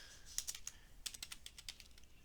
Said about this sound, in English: I can't even type